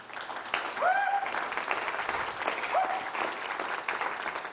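An audience applauds singers at a writers award ceremony, a sustained clapping wash with a couple of brief voices calling out over it.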